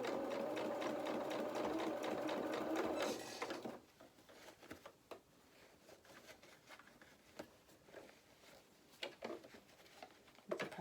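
Domestic sewing machine stitching doll clothes for a cat doll, running in a steady loud whir for about three and a half seconds, then stopping, leaving faint handling clicks and rustles.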